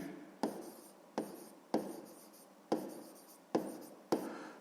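A pen writes numbers by hand for a 6th-grade math exercise, heard as close, distinct scratching strokes in about seven short bursts, each starting sharply and then trailing off, with no speech.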